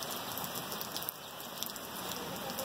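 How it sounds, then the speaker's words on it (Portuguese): Rain falls steadily on a roof cover in a soft, even patter with scattered louder drops, no voices over it. "Chuva para todos os lados."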